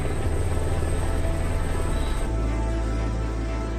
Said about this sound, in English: This helicopter is specially designed for operating at high altitude.